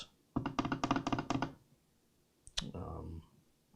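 Rapid clicks from a wireless mouse used with a Beelink SEi12 mini PC, a quick run of sharp taps up close, followed by a couple more clicks and a brief muffled thud, with no speech.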